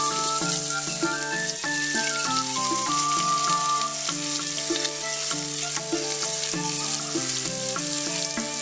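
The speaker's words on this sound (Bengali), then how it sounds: "পেঁয়াজ কুচিগুলোকে ভালো করে ভেজে নেব।" Chopped onions frying in hot oil with bay leaves, whole cumin and garam masala for a village-style biryani, giving a steady, even sizzle beneath a continuous melodic music track.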